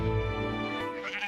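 A sheep bleats loudly and close by in the hills, one sustained, wavering cry, with no other sounds around it.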